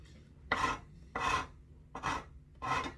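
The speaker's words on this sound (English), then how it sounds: "Luckily this side of the file is fairly smooth, so I'm not filing my thumb too much." A hand file rasps against a part of a 130-year-old W.E. Hill & Sons violin in four slow, separate strokes, each about half a second, close up and fairly quiet.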